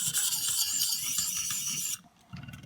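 A WE Banter pocket knife edge is sharpened on a 600 diamond stone, giving close, gritty rasping strokes in a continuous run that breaks off, then a quieter scrape resumes.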